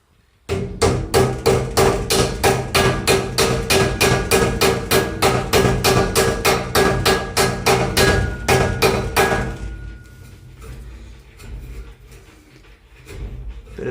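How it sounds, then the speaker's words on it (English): A hammer taps plastic inserts into 19 mm square metal tubing, with fast, even, sharp strikes repeating for about nine seconds before stopping and leaving a quieter room. "Sometimes you need a bigger hammer."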